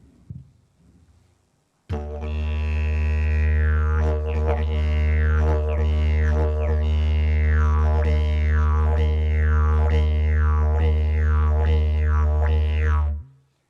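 A performer imitates a big red kangaroo hopping along with a loud, sustained low drone. About ten evenly spaced swooping pulses rise and fall over it like bounding hops, then it cuts off abruptly.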